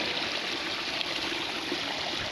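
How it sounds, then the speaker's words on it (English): Water runs steadily at a model village, a continuous, close rushing wash with no breaks and no voices. "The water is going."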